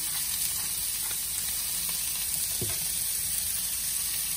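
Vegetables for a ratatouille fry in a pan with a steady, close hissing sizzle, broken only by a brief soft clink partway through.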